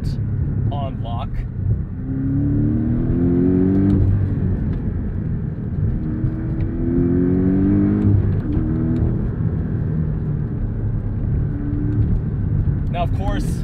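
A 2018 Porsche 718 Cayman GTS engine revs several times, its tone climbing and dropping in smooth sweeps over a steady low rumble.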